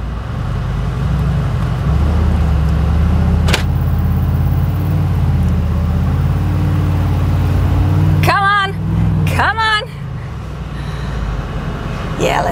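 A Mercedes-AMG G63 on road tyres driving off-road, a steady low engine rumble and tyre crunch throughout, with two bursts of high wavering squeals near the end, and no talking.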